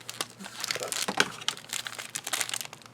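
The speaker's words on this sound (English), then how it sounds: "it comes in a plastic bag, and inside the plastic bag are more plastic bags" Plastic bags of a bead jewelry kit crinkle and rustle in quick, irregular bursts, close up and continuous for several seconds, with no talking.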